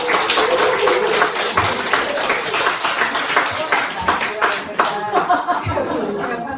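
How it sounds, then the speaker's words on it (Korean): An audience at a village learning-center gathering closing a thousand-day prayer claps in an uneven, lively patter, mixed with soft chuckles and some chatter close by. "기운 내서 할 수 있도록 큰 박수 부탁드립니다."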